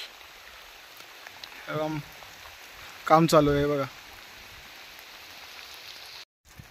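Heavy monsoon rain falls at Mandangad fort as a steady, even hiss of drops throughout, with a voice speaking briefly twice over it.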